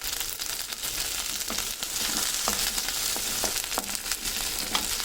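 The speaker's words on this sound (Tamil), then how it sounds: "இந்த மாதிரி சின்ன வெங்காயம் நல்லா வதங்கிருச்சு" Shallots, garlic and curry leaves sauté in a pan with a steady, soft sizzle, punctuated by light scraping stirs of a spoon at intervals.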